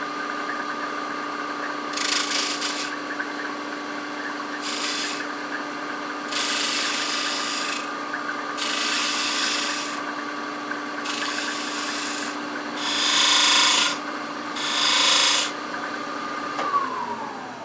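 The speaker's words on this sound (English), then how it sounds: "I think I'm going to just try to trim that up a little bit." A Norfolk Island pine piece spins on a wood lathe under a steady motor hum while a tool trims its rough edge in several rasping bursts of a second or two each, separated by pauses.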